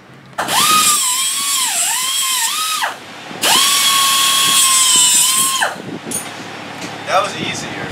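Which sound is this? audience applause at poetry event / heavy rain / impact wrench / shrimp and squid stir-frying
impact wrench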